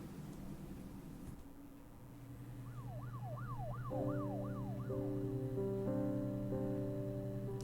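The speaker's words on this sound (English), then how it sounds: "I heard sirens in my right ear" A wailing siren rises and falls, overlapping with a second steady two-tone siren and low engine drone; the sirens sound moderately close and continuous.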